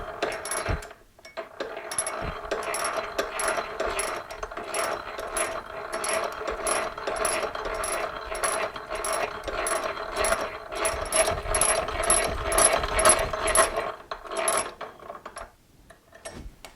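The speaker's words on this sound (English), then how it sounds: "engage the pawl," The ratchet pawl of a hand-cranked post drill clicks steadily while a bit drills a pencil-sized hole, a close, even run of rapid mechanical clicks that keeps going for about fourteen seconds and then stops.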